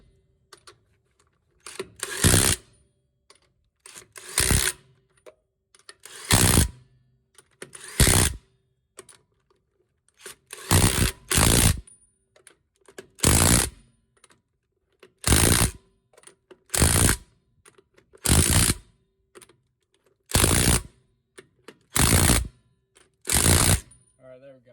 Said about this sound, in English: I'll get all these lug nuts back on